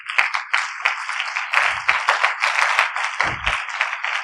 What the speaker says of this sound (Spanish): Si entiendes, dale un aplauso a Jesús